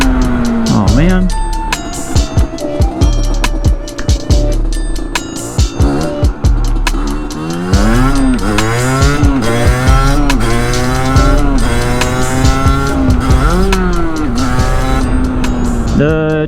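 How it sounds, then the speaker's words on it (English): A Sherco 50 SM motorcycle with an AM6 engine runs loud and close, its high-pitched two-stroke note rising and falling through repeated revs, with a voice talking over it. "you guys can see the bike really turns on"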